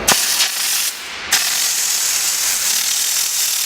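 Loud continuous hiss of steam blasting from the steam gun of a diesel mobile washing machine, with a brief break near the second mark before the spray surges back, no talk.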